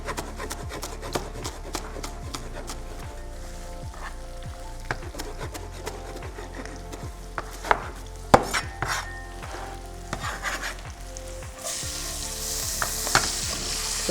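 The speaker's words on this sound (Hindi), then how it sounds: "तो थोड़ा सा सौते करेंगे" Green onion tops and chili paneer sautéing in a pan with a spatula, continuous sizzle under brisk scraping and stirring strokes close up, with a brighter hiss of frying near the end.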